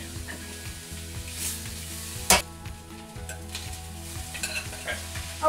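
Fried rice stir-fried in a pan makes a busy sizzle with repeated scraping and stirring strokes, plus a sharp metallic clink partway through and no talking.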